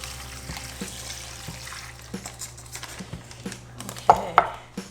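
Marinade poured into a bag holding a top round London broil roast and onions, soft liquid trickles and splashes with scattered plastic and dish clinks, louder toward the end; no voices.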